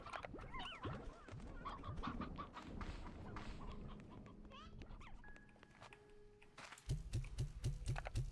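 Chickens clucking in Slime Rancher, a busy cluster of short chirpy calls over layered game sounds, ending in a run of rhythmic pulses, with faint keyboard tapping underneath.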